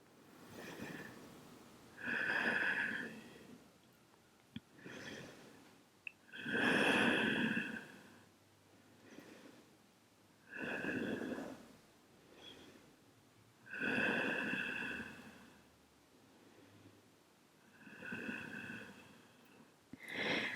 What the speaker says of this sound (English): Big, nice breaths here.